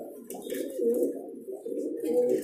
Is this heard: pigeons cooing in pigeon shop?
yes